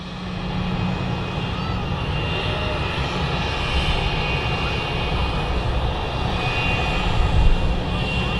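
A Qatar Airways jet departs Manchester Airport, its engines producing a loud, steady roar that swells slightly over several seconds, heard from a nearby vantage point.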